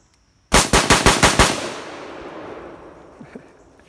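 A rapid burst of six loud, unsuppressed 5.56 or 300 Blackout rifle shots, close and sharp, followed by a long echoing tail that fades over a few seconds.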